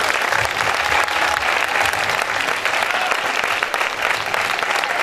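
Strong, steady applause from a festival audience for the event's host at a closing ceremony, a thick wash of many hands clapping continuously without pause.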